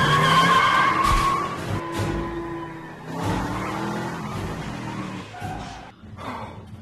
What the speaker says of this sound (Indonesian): saat mobilnya sudah menyala, Luke pun dengan cepat masuk ke mobil dan pergi dari sana